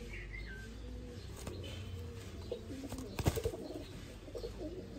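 A breeder's flying pigeon coos softly in a loft, low throaty murmurs with a few scattered chirps and faint rustling, fairly quiet and close, with no talk.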